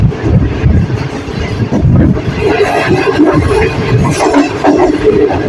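Loud, continuous rumbling and rattling of a moving train braking on a steep downhill descent, with heavy wind buffeting, a steady low roar throughout.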